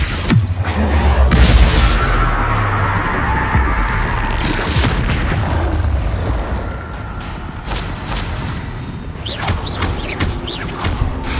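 Confringo blasting-spell explosions in the video game Hogwarts Legacy, loud booming impacts and crashing debris in a large hall, followed by rumbling mechanical clatter and scattered sharp hits.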